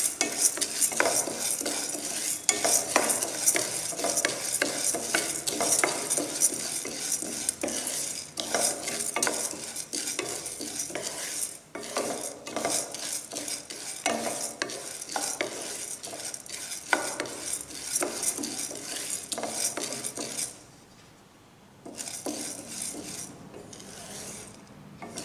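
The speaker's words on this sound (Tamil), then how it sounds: "கொஞ்சம் நேரம் வறுக்கணும்." Toor dal dry-roasting in a pan while being stirred: a dense run of scraping, rattling strokes and faint sizzling from close by, steady and busy for most of the time before easing off near the end.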